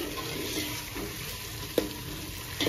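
Eggs fry in a pan for egg dum biryani, giving a steady hiss and sizzle that holds throughout, with a single sharp clink partway and a louder stir near the end.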